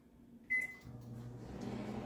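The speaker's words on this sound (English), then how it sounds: "I'm going to put my glass pan with the margarine in it into my microwave" A microwave oven heating margarine in a glass pan: a short beep or click, then a steady low hum of the running oven, close and quiet with no voices.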